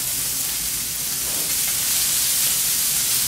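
Beef for a Wellington sears in a hot pan, giving off a loud, constant sizzling hiss from start to finish.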